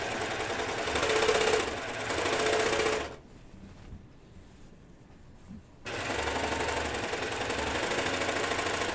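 A sewing machine driven by a foot pedal stitches a fabric bag, running in loud steady mechanical bursts, stopping for a few seconds of near quiet, then starting up again and running to the end.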